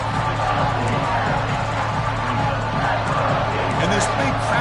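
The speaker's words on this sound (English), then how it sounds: "this big crowd doing everything possible to inspire this defense down here near the goal line" A big stadium crowd roars continuously near the goal line in a college football video game, Fresno State against TCU in a playoff game, a dense, even wash of cheering under commentary.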